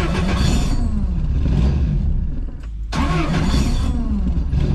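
Car with a racing clutch revved hard at launch, a loud close engine roar that cuts out abruptly in a stall, then is restarted and revs up again.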